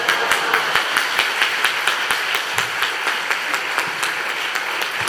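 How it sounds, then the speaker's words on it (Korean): Congregation at an evening church revival meeting claps steadily to welcome a visiting preacher, a dense sustained applause of many hands with individual claps audible throughout, no talking. "우리 박수 치면서 환영하시도록 하겠습니다."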